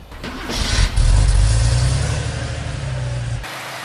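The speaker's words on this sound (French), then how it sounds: "Après avoir mis l'huile, maintenant ils vont démarrer." A car engine cranks and catches after an oil change, then settles into a loud, steady idle that runs close by for a few seconds before cutting off abruptly.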